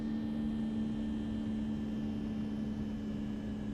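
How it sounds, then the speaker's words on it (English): Propeller aircraft engine in a flight simulator game with an add-on sound pack, a steady droning hum at takeoff power, continuous and even throughout with no voices over it. "I love the sound of this engine. I've put that sound pack on and it sounds really good"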